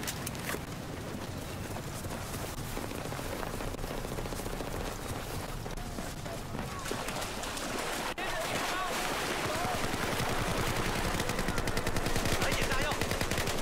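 Sustained gunfire and machine-gun suppressing fire from Battlefield 4 on the Naval Strike map Nansha Strike in Domination mode, dense rapid bursts running continuously and loudly throughout, with a player's voice talking over the shooting.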